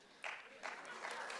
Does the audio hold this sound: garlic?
no